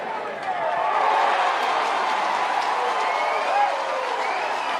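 College baseball crowd at an NCAA regional elimination game, Clemson against UNCG, cheering and applauding steadily for several seconds in a broad, sustained roar.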